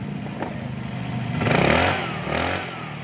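A Kymco motorcycle engine fitted with a dual CDI idles close by with a steady mechanical clatter, briefly revving twice before settling back.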